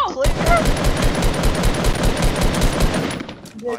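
Long automatic burst from a video game gun, a dense rapid rattle of shots at close range lasting several seconds, with players' voices briefly heard at the start and end.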